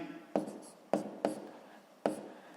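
Pencil writing on paper while working a sixth-grade math exercise, four distinct tapping strokes each followed by short scratchy trailing scribbles, close and fairly quiet.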